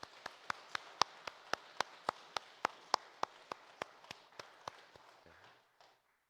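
Church congregation at a Sunday worship service clapping in welcome, heard as a steady run of about twenty sharp, evenly spaced claps that slowly fade and stop near the end.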